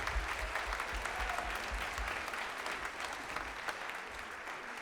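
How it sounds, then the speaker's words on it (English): Steady, dense crowd applause from an audience at a high school concert band winter concert, a continuous wash of many hands clapping, fairly soft and distant, with no voices standing out. "one last round of applause for them"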